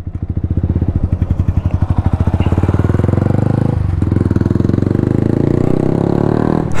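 Yamaha R1 sport bike fitted with an Akrapovic full exhaust system, loud and close, its engine revving up in a rapid pulsing drone with a brief dip mid-clip as it shifts into a higher gear.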